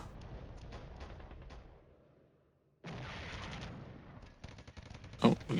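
A rifle squad fires in the Cold War wargame Flashpoint Campaigns, with bursts of crackling gunfire. A brief silent gap falls midway, then heavier sustained fire resumes and ends in a loud blast.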